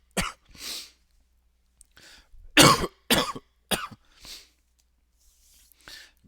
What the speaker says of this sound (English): bit of a coughing fit there.